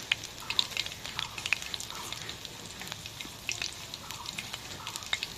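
Boondi, small drops of gram flour batter, fry in hot oil while being stirred, giving a continuous fine sizzling crackle with scattered pops and a few light clinks, close and steady, with no voices.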